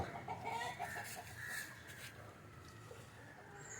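Country chickens cluck softly inside a hen coop, with faint, close, intermittent clucking and rustling and no talk.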